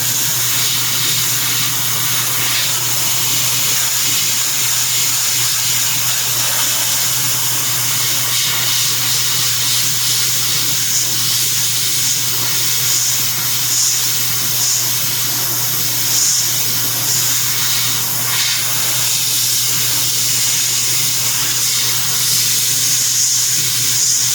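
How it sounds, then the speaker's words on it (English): A steady, continuous airbrush spray hisses without pause, a fine airy spray of paint with a low hum underneath, close and even throughout. "Again, just kind of spraying from the outside into the middle."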